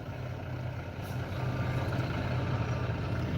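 A semi-truck rumbles past on the road, a steady low engine drone that grows slightly louder and nearer over a few seconds, heard alone without talk.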